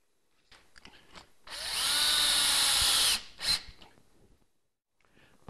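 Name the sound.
fixing a batten under the undercloak with a power tool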